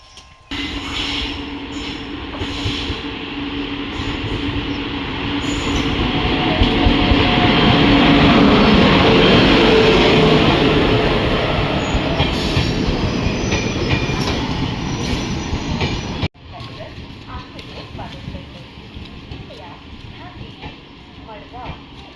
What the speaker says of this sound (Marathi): ट्रेन येते आमची, लेट आहे 10 मिनटं.